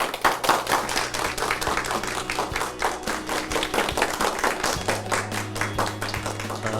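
An audience at a church gathering welcomes an elder to speak with sustained clapping, many hands beating in an uneven rhythm over a low steady hum.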